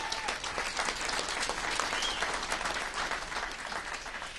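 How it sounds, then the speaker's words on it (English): Steady audience applause at a rodeo, many hands clapping together in a dense, continuous wash of sound at moderate distance. "And give him a round of applause."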